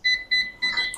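Control-panel button beeps on a Japanese electric rice cooker, three short bright electronic chirps at a steady pace, close and clear with no talking.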